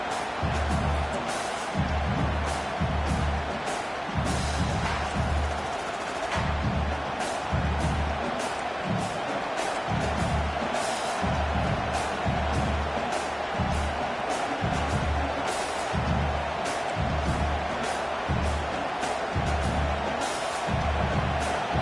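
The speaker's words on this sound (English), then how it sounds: "Listen to this crowd just shaking the girders of this place, trying to help their defense." A huge college football stadium crowd roars continuously and loudly during Oklahoma State's defensive play, with a rhythmic pounding of stomps or claps beating underneath.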